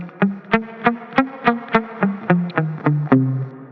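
Guitar notes of a C Dorian scale are picked one after another at an even pace, about a dozen distinct plucks stepping through the scale, clear and close with no voices.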